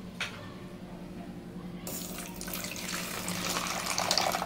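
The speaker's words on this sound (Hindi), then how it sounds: "सब्जा सीड्स ऐड करने के बाद इसमें एक आधा कप जितना पानी ऐड कर लेंगे।" About half a cup of water is poured into a bowl of sabja seeds. After a quiet start, the running, splashing water begins suddenly and grows steadily louder.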